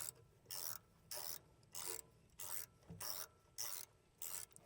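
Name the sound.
nut run off bolt to clean cut threads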